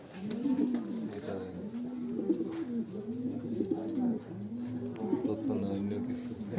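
Pigeons of various breeds coo repeatedly in a steady rolling rhythm, several calls overlapping nearby at moderate loudness, with low background noise.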